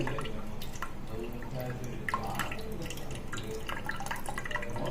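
Water drips and splashes steadily in a kitchen while a sour orange juice is prepared, a continuous patter of small liquid impacts with no talk.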